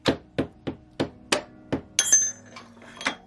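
A hammer strikes a 10mm bolt to drive it out of the rear suspension linkage of a KTM 690 Enduro R motorcycle, with about eight sharp metallic blows in a steady rhythm, close and loud, followed by a ringing clink.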